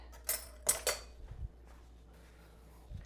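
Pumpkin strudel (tikvenik) filling with sugar stirred in a bowl, a few sharp utensil scrapes and clinks near the start followed by a soft dull knock or two, then quiet.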